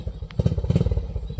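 A motorcycle rides along a road that may be wet after rain, its engine a close, continuous clattering putter with rhythmic thumps.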